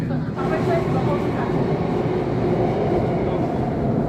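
A Singapore MRT train runs through an underground tunnel, a steady loud rumble and rolling roar throughout with a voice speaking over it.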